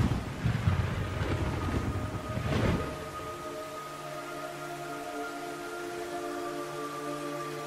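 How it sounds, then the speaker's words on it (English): Rain falls in a video game, a broad rushing hiss with gusty surges in the first few seconds, settling into a quieter wash under a sustained low musical drone. "It's raining blood."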